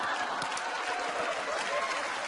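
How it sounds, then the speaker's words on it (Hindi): An audience at an award function breaks into thick, continuous clapping, a dense even wash of hands lasting a couple of seconds with no break. "इनके लिए भी जोरदार तालियां"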